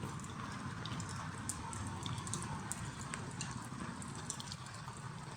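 Steady heavy rain pours down during a flood in the Philippines, a dense, continuous hiss with scattered drop patters, loud and unbroken throughout, no talking.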